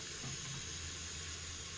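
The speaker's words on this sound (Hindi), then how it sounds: "ये देखिए माशाल्लाह पानी अब ऐड कर रहे हैं।" Water gushes steadily into a cooking pot for chana pulao on a gas cylinder stove, a continuous faint rushing hiss with no speech.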